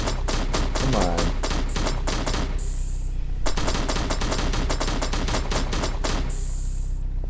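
Sustained automatic gunfire from a video game weapon firing physical bullets, loud rapid bursts filling most of the stretch with brief pauses between volleys and a faint voice in between.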